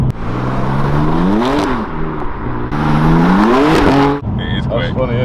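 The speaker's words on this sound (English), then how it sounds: "That's the first time I put my foot down in this car." A rare manual project car accelerates hard through the gears, the engine note rising loudly to high revs, dropping at each shift and climbing again, close and dominant.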